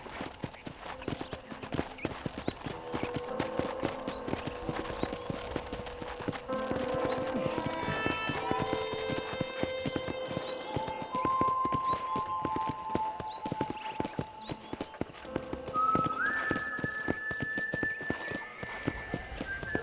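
A horse trots at a ranch in the Western video game Red Dead Redemption, a quick steady clip-clop of hooves throughout, close and clear, under game music with sustained tonal notes and a brief whinny-like tone near the end.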